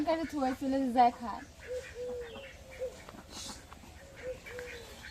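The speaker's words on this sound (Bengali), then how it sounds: "এই হাঁস নিয়ে একটু খুব অসুবিধা হয়েছে" Ducks give a burst of nasal quacks up close at first, then softer scattered calls follow, with faint background noise.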